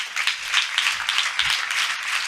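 A church congregation claps loudly together, a dense, steady patter of many hands filling the room for a couple of seconds.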